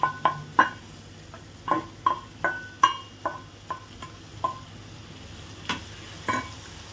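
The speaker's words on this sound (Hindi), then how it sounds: "इस स्टेप पे हम चिकन डालेंगे, जो मैरिनेट किया हुआ है ना वो वाला पूरा।" Marinated chicken for chicken sukka is stirred in a hot pan, with sharp rhythmic clinks of a spoon against metal over a faint sizzle, no talk.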